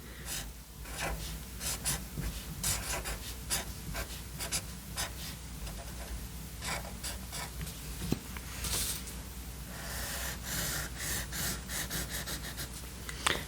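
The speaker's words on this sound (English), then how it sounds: "I'm just going to write one quick word, and that way that can be on my party hat." Marker or pen scratching steadily across a paper party hat, close and continuous with repeated strokes, with soft breathing and faint room noise throughout.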